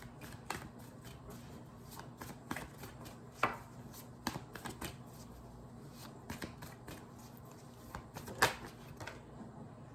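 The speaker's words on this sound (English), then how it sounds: "So first card, I'm going to keep shuffling" Tarot cards are shuffled quietly and repeatedly, soft riffling and tapping clicks coming in irregular bursts close by.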